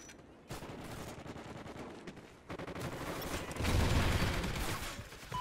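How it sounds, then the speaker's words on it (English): A sentry gun fires in Call of Duty Ghosts as sustained, dense automatic gunfire that keeps going, with a brief gap and a louder, heavier stretch near the end. "Soldier, your sentry gun is ready."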